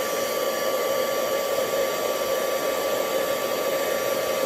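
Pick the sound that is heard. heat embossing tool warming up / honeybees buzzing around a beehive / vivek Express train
heat embossing tool warming up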